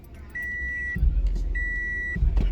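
Two sustained electronic beeps, each lasting about half a second, sound over a low rumbling hum, with soft thuds between them.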